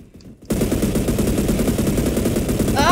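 Rapid, dense automatic gunfire from the Roblox shooter game Energy Assault bursts in after a brief quiet start and continues loud and unbroken to the end.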